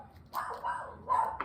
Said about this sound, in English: Sorry for Sugar barking.